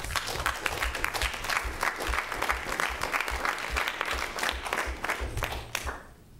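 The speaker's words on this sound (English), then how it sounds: "So we should all applaud them" A crowd applauds steadily for several seconds, dense clapping at a moderate distance that tapers off at the end.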